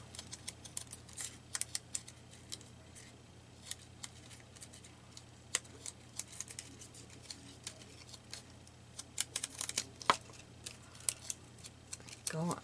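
Scissors snipping paper for a junk journal, with sharp, irregular clicks and cuts, fairly faint and close, spread through the clip.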